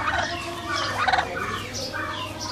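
A white turkey on a farm gobbles in repeated bursts of rapid warbling calls, fairly close and clear over a low steady hum.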